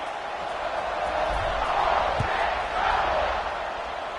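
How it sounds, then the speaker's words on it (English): Large college football stadium crowd at an Ole Miss versus Oregon game, a steady broad roar and buzz of many voices filling the space, holding at a fairly even level with slight swells, no single voice standing out. "this crowd is buzzing after that last score"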